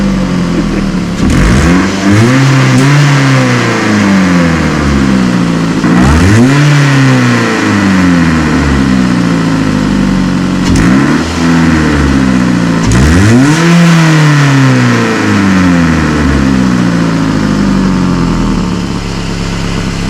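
A car engine revs repeatedly through an exhaust with holes drilled in it, rising and falling in loud, raspy sweeps several times over a rough, steady idle, close and with no talk.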